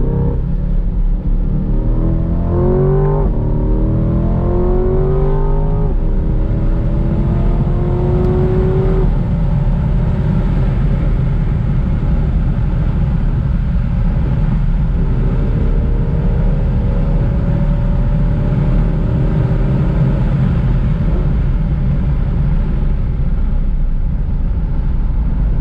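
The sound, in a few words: sports car engine accelerating at full throttle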